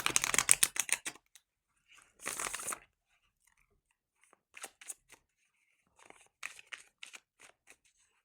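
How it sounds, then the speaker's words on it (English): Quick ruffling bursts of a card deck being shuffled, a few riffles separated by pauses, with small scattered flicks and taps between them. "let me quickly shuffle this deck for clarifiers."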